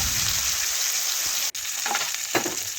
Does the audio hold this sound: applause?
no